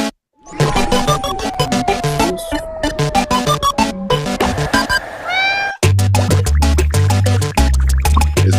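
A cartoonish cat meow from the Cato: Buttered Cat video game trailer rises briefly out of loud, busy music, with heavy bass beats taking over afterward.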